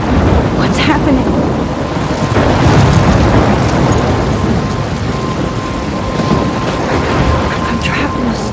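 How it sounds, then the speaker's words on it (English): A heavy thunderstorm in the Life is Strange game roars loud and close, with dense pouring rain and rolling thunder rumbles swelling and easing in waves throughout. "I'm trapped in a storm?"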